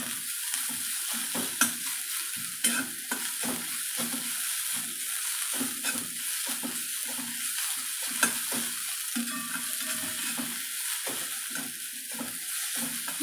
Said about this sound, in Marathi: लोखंडाच्या कढईत कांदा खोबरं छान भाजलं जातं.